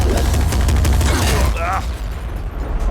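Dense rapid gunfire and explosions from the top-down shooter game Nuclear Throne, a loud continuous barrage with a short electronic whine partway through, mixed with game effects.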